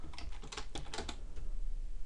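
Quick, uneven clicking of keys on a computer keyboard, close and fairly quiet, in a short burst with no talking.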